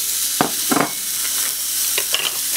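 A pound of ground beef sizzles and spatters in a heated skillet, with a steady hiss broken by a few louder stirring scrapes, close up and free of talk.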